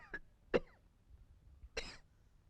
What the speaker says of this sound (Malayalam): നിന്റെ ചുമയൊന്ന് നിർത്ത്